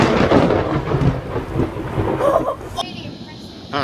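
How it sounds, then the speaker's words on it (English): Thunder from a nearby lightning strike: a loud, close crash and rolling rumble over rain and wind noise that drops off abruptly after about three seconds. A startled voice can be heard. "Lightning strike right in front of me."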